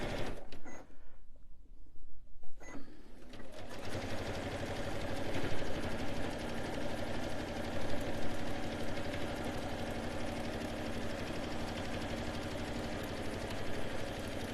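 A sewing machine runs a seam around a Christmas stocking. After a brief pause near the start it hums steadily and close up with a fast, even stitching chatter, and no one speaks.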